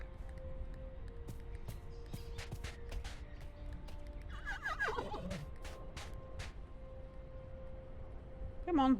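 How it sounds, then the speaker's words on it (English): A horse neighs in the survival video game Ylands, a rising whinny near the middle and another at the end, heard over quiet ambient game sounds and scattered clicks. "Come on, horsey."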